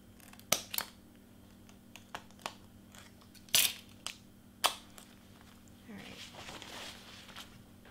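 Scissors snipping through skin-tone heat transfer vinyl give several sharp, separate cuts close by, followed by a softer rustle of handling. There is no talk in it.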